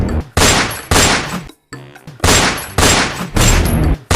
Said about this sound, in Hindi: तब वो सरदार फौरन संदूक के पीछे जा छिपा और बंदूक से गोली